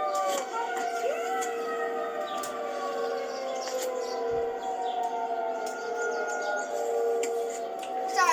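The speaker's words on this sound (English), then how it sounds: "His neighborhood by the woods is filled with the sounds of sirens on his block" Sirens wail in a neighborhood by the woods, several long rising and falling tones overlapping at a moderate distance, steady throughout with faint birdsong and brief clicks.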